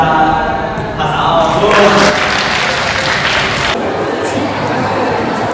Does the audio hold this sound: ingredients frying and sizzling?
no